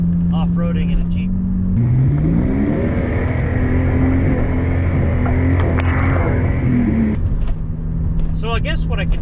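Steady engine drone of a Volvo 960 driving, a smooth continuous hum with a gear change shift, loud and close from inside the cabin, with brief talk at the start and end.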